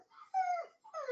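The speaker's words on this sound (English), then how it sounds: "That's my dog." A dog whimpers and yips in short, high, wavering cries behind a door, two close bursts with a brief pause between them, while playing with a cat.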